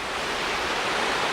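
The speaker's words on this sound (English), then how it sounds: "right in front of me is a tiny little waterfall with rocks either side" A tiny waterfall spills over rocks, a close, steady broadband rush of flowing water with no voices.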